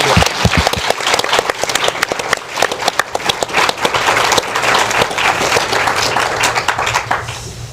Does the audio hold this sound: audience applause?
yes